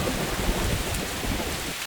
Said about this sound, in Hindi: बाहर लगातार बारिश होती रहती है।